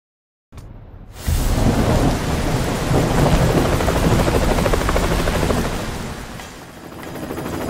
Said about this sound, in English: The helicopter's ready.